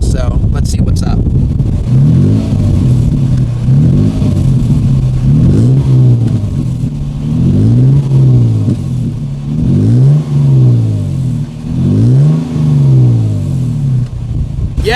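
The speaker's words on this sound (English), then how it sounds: "now we're going to listen to this exhaust and see how it sounds, at least at a standstill" A Toyota Tacoma TRD pickup exhaust is revved repeatedly while stationary, each blip rising and falling in a deep, loud rumble over a steady idle.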